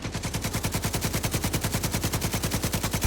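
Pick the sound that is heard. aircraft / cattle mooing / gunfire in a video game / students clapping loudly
gunfire in a video game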